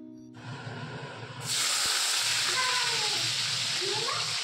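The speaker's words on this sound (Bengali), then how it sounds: "আর টিফিন বানানোর জন্য গরম তেলের ওপরে এই আলুটা ছাড়বো।" Potatoes dropped into hot oil in a home kitchen give a sudden loud sizzle that bursts in after a moment and hisses on steadily, with faint talk in the background beforehand.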